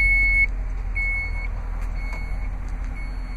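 Power lift gate on a 2011 Dodge Durango Citadel AWD sounding a series of steady electronic warning beeps, three or four long tones with short pauses between them, over a low vehicle rumble.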